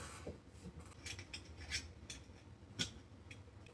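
A blade trims the edge of a cardboard box using a 3D printed tool, giving faint scraping and rasping strokes with a few sharper cuts over a quiet background.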